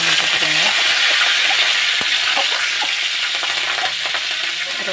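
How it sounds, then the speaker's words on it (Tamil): Mustard seeds and curry leaves crackling in hot oil for a Tamil brinjal and black-eyed pea kuzhambu, a loud, close, unbroken sizzle dotted with sharp pops and a metallic click. "கருவேப்பிலை நல்லா பொரியட்டும்."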